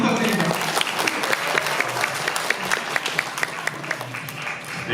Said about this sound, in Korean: 정성호 의원님께 다시 한번 큰 박수 부탁드립니다